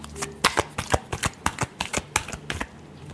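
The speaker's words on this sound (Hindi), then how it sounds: "Last shuffle." Tarot cards shuffled by hand in a quick run of about a dozen crisp riffling snaps, close and fairly loud, with no voices.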